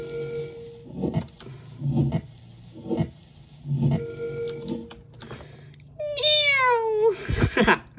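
A series of soft rhythmic ticks and thumps, then a single drawn-out cat meow rising and falling near the end, close and clear, from a video game.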